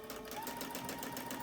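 Sewing machine stitching fabric for a bowl cozy, a steady close mechanical whir of fast, even needle strokes running without pause.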